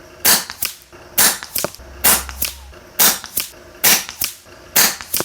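FX Wildcat air rifle firing a group of pellets at 100-yard targets, about eight sharp, close cracks in a steady rhythm roughly every half second to second, with no talking.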